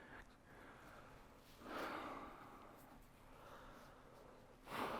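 Heavy breathing through a Razer face mask, quiet and close, with two stronger exhales or snorts and softer breaths between them, and no talking.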